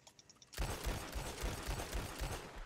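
Rapid hip-fired gunfire in the video game Red Dead Redemption 2 starts abruptly after a brief quiet moment, then continues as a dense, fast burst of close shots.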